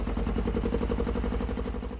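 An 80s Nova supercar's once-seized engine runs steadily at a rough idle, close and loud, with an even rhythmic clatter throughout and no talking.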